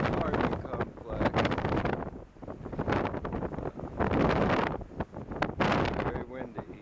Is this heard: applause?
no